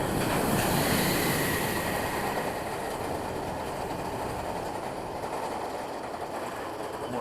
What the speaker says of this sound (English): there was a little bit of a rattle to this ride, especially once you get up to that high point